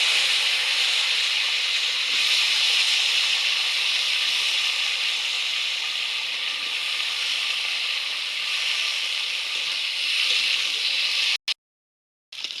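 Potatoes and vegetable stalks frying with white cumin in a pan give a steady, close, bright hiss that holds evenly for about eleven seconds, then cuts out abruptly; no talking.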